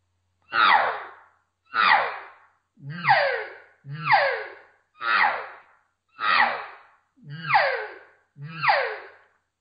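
Eight drawn-out, descending elk cow calls repeat at steady intervals, each with a raspy, buzzing lip-vibrated edge. A person is imitating the calls, close and fairly loud.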